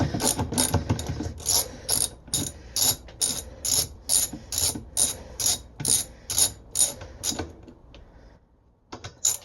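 A ratchet tool clicks in even, rhythmic bursts while loosening the screw on a Whirlpool washer agitator, close and fairly loud. About fifteen repeated strokes slow down and stop near the end, followed by a couple of faint clicks.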